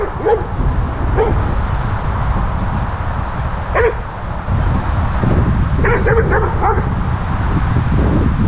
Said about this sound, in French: ça attire toujours les petits toutous et les gros toutous